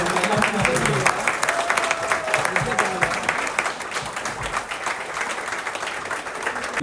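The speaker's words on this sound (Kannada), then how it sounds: "ನಿಮ್ಮ ಒಂದು ಜೋರಾದ ಚಪ್ಪಾಳೆ ಬರಲಿ" An audience applauds at a Kannada Yakshagana cultural gathering in Germany, a dense, steady wash of many hands clapping that lasts throughout, with faint voices underneath.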